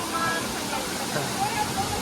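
Tirathgarh waterfall rushing, a steady broad roar of falling water heard from nearby, with faint background voices mixed into the wash.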